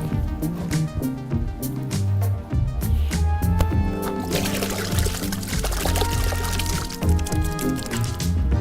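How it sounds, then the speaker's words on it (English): Water is poured into paint, a soft liquid splash and trickle mixed under loud background music. "Adds a little bit of water to this."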